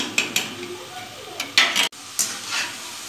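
French fries sizzle in hot oil with a bubbling hiss, interrupted by a few clinks and scrapes of a utensil against the pan, close, with a brief voice in the background.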